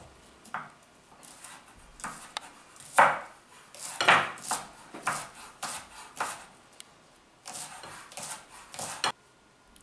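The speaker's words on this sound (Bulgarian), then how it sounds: "И сега първо започваме с рязането на лука и на чесъна." A knife chops onion and garlic on a cutting board, producing a series of irregular sharp taps and knocks at close range, some louder strikes standing out, with no talking.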